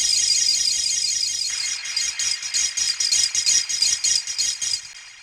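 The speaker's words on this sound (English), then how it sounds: "what that's doing is it's a lot of distortion going into a delay" A heavily distorted sample from Ocarina of Time, fed into a delay within a techno track, gives a bright, gritty buzz that breaks into rapid rattling, stuttering pulses and echoing repeats before fading out near the end.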